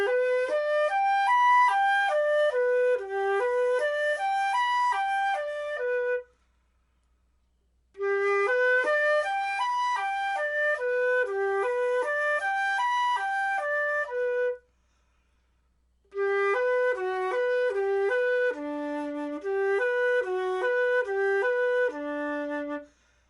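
A solo flute plays Koehler's Opus 33 Book 1 Etude 2 slowly, three clear legato phrases of evenly stepped notes with short silent pauses for breath between them.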